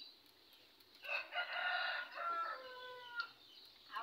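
A rooster crows once, a clear drawn-out call at moderate distance, with faint background noise around it.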